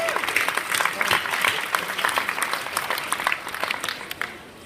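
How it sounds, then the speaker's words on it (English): An audience gives a big round of applause for a giant-vegetable grower at a talk on growing record marrows, loud continuous clapping from a crowd throughout, with some voices mixed in. "Big round of applause for Kevin,"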